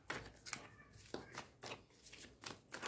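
Tarot cards shuffled and slid from the deck by hand, giving soft, close riffling bursts in an irregular rhythm with short pauses between them, fairly quiet and with no talking over them.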